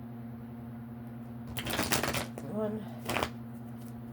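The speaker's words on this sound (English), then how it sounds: "we're going to do one shuffle and then we'll do 3" Two quick bursts of tarot card shuffling, a riffle then another, close up over a steady low hum, with a brief spoken word between them.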